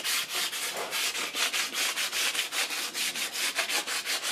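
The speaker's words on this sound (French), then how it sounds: "Quand ça va être sec, je vais poncer tout ça." Hand sanding of a faience pottery piece, rapid rhythmic back-and-forth scratchy rubbing strokes, close and steady throughout with no talk.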